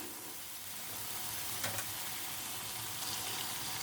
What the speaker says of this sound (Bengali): এবার আমি দিয়ে দিচ্ছি গোটা টমেটো, ছোটো ছোটো টুকরো করে কেটে দিলাম। মশলাটা ভালো করে কষিয়ে নেব।